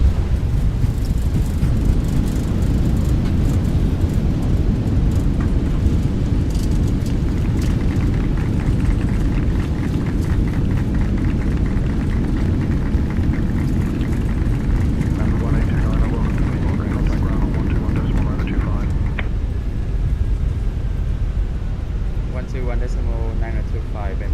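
Airliner in Microsoft Flight Simulator landing at Da Nang, a loud, constant engine and airflow rumble with a low-heavy roar, while a voice speaks over it.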